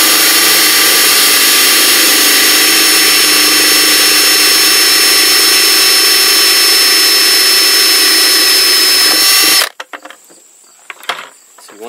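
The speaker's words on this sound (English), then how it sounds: "line it up again, drill pushing down." A loud, continuous high-pitched whine of a power drill boring through a plastic bucket runs steadily, then cuts off abruptly, leaving faint clatter.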